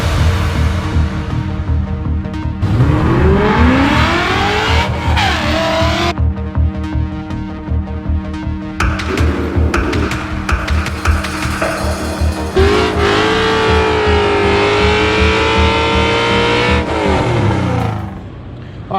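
A Fox body Mustang with a swapped Coyote V8 fires up and revs loudly and close, engine pitch sweeping up and down through repeated blips, with some music-like tones mixed in and brief voices underneath.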